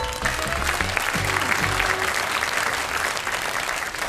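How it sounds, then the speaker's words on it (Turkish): Studio audience applauding on a Turkish TV quiz show, a dense, steady wash of clapping that holds loud and close for the full stretch, with some low music or murmur underneath early on. "Alkışlıyoruz."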